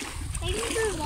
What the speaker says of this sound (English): So we go walking through the water